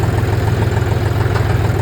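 A tractor engine idling close by with a steady, low, rhythmic throb and mechanical vibration, loud and alone.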